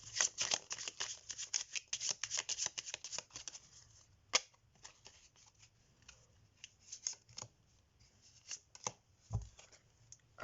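Belline oracle cards being shuffled by hand, a close, crisp run of papery riffles and flicks that thins into scattered slides and taps, with no talking.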